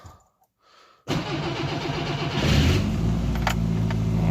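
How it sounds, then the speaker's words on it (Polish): A Polski Fiat 125p car engine, with fuel drained from the carburettor, cranks faintly for about a second, then catches and runs loudly, rising in revs before settling into a steady run close by. "No i odpalił ładnie."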